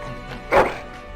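A dog whimpers once in the video game Dragon Age Origins, a short, whiny burst rising over quiet background ambience.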